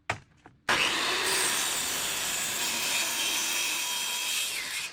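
Saw cutting a straight line through cabinet wood, a sudden loud continuous rasping whine after a couple of brief knocks, steady and close for several seconds.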